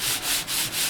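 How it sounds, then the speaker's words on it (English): Sandpaper rubbing over the CNI finish coat on an acoustic guitar body, a close, steady scratchy swish in three or four back-and-forth strokes with brief dips between them. "So I'll finish sanding it off now."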